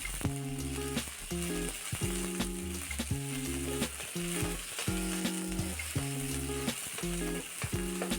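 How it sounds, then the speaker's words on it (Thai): Thai curry paste stir-frying in hot oil sizzles steadily and close, broken by regular scraping strokes of the stirring spatula, with no voices over it. "น้ำมันร้อนแล้วครับเดี๋ยวก็ใส่เครื่องแกงนะครับ ผัดเครื่องแกงให้หอมนะครับ"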